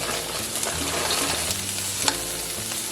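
Frozen peas and carrots fry in a hot pan while making fried rice, giving a steady, close sizzle with scraping stir strokes and a sharper clatter near the end.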